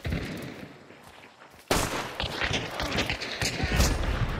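Pistol fire in a video game: after a brief quiet stretch, an abrupt loud burst of shots breaks out and continues as a rapid, uneven volley of sharp cracks.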